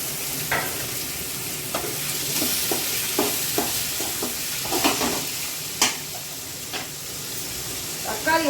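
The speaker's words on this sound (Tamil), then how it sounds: "தக்காளி வதங்கட்டும்." Chopped tomatoes sizzle in a pan of sautéed ginger and garlic for Chettinad chicken, a steady close frying hiss broken by regular scraping clicks of a spoon stirring.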